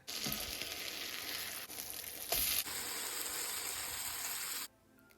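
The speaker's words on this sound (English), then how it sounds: "cook the bread over medium heat until golden brown and caramelized" Bread slices for vegan French toast fry in melted vegan butter in a pan over medium heat, giving a steady close sizzle with a brief louder burst partway through before it cuts off near the end.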